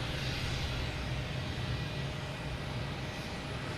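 JetBlue Airbus A320 taking off at Boston Logan Airport, a steady broadband jet roar heard from a distance, fairly faint and unbroken throughout.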